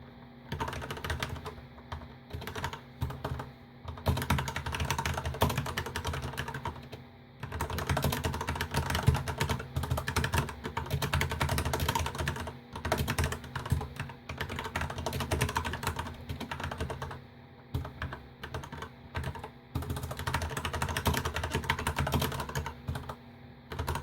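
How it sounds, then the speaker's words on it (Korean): Several mechanical computer keyboards with red, blue, brown and black switches, plus a Topre electrocapacitive board, are typed on in fast, continuous clattering bursts separated by brief pauses, sounding close and moderately quiet, without speech. "제가 저희 집에 있는 키보드를 전부 다 타건을 해볼 거예요"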